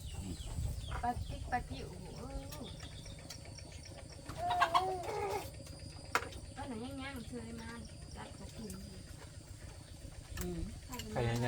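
White chickens cluck intermittently close by in a rural Thai setting during farm work. The soft, bursty clucks repeat through the stretch, partly under people talking nearby.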